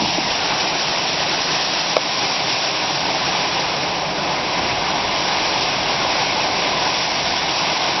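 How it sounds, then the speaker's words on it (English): Steady, dense rain pouring down, a continuous hiss and patter without pause, fairly close and loud throughout. "Gotta look at this rain coming down."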